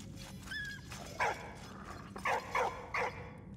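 A dog barking in the World War video game Valiant Hearts: The Great War, a thin whine first, then one short yip followed by three more quick barks in a loose cluster over quiet game ambience.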